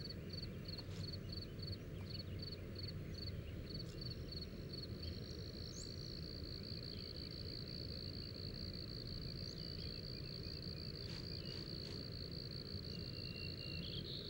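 Cricket chirping steadily at a pond, a thin high trill repeating in short pulses then holding as a continuous buzz, faint against a low background hum of outdoor night ambience.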